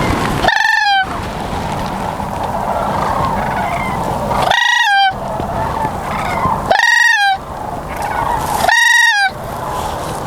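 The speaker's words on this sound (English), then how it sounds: "we got three crane in front of that flock of snow geese" A flock of snow geese with sandhill cranes calls loudly and close during a youth crane hunt, with four clustered bursts of honking cries over a constant background of distant flock chatter.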